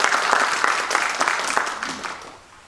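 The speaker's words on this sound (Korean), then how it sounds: "큰 박수 한번 부탁드립니다." Audience applause breaks out at an academic lecture before a keynote talk, a dense mass of clapping that fades toward the end.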